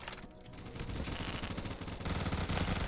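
Rapid automatic fire from a Vector submachine gun in the online shooter Phantom Forces rattles on continuously for about three seconds. The shots blur into a dense, loud stream with no pauses.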